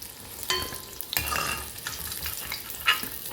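Large pieces of brinjal and other vegetables fry on high heat in oil, a close hissing sizzle punctuated by a few sharp clatters of the pan and spoon.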